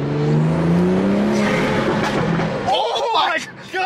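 A BMW 340i M Sport fitted with an MST intake revs hard under acceleration, a loud droning engine note that gives way to sharp crackling exhaust pops, with excited voices over it.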